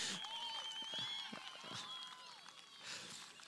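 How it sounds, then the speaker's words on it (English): Spectators at an outdoor agri-sports event for young farmers applaud, faint scattered clapping and crowd noise heard from a distance, mixed with whistles and background voices. "What about a round of applause for all 7 of them?"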